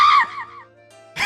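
A shrill, wavering scream from a scary underground elf in a fantasy tabletop game, loud at first and trailing off, followed by a thin ringing tone and a brief harsh burst at the end.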